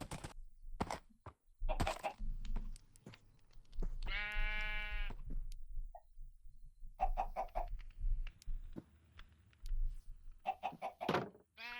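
Chickens cluck in the farm game Engineers Life 2, brief calls scattered among clattering footsteps and game noises, with one drawn-out stuttering call from a fowl standing out in the middle.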